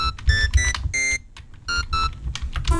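Bright future bass bell synth patch built in Serum, its filter cutoff tracking the keyboard, plays a series of short, loud, tonal notes in a bouncy rhythm with brief gaps between them.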